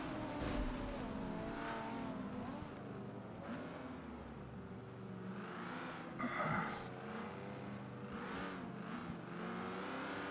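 Race cars on a pace lap at Le Mans in a Forza racing game, engines droning and revving steadily with rising and falling pitch, a brief louder surge midway, continuous and fairly quiet.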